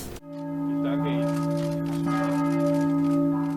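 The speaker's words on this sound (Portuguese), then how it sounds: "Os sinos tocaram nesta sexta-feira na capital alemã" Church bells in Berlin ring with a steady, sustained hum of overlapping tones, a broad resonant drone that fills the background throughout.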